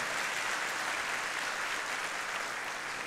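A church congregation claps together in a full, dense round of applause that holds steady and fairly loud for about three seconds, with no talk over it.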